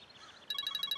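Indoors, a telephone starts ringing halfway through, a bright electronic ringtone of rapid, evenly spaced pulses after a near-silent start.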